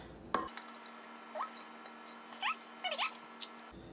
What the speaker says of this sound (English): Now we're simply going to add this on top and spread it all around.